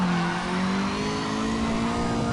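A small car's engine revs hard in the CarX racing game, its steady, loud drone climbing in pitch while the tires squeal faintly underneath.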